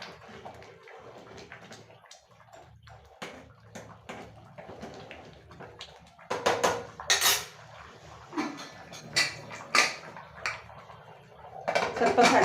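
Metal lid set onto a pressure cooker of tomato bath, giving several loud clanks and rattles of metal cookware after a stretch of quieter kitchen clatter, close by with no talk.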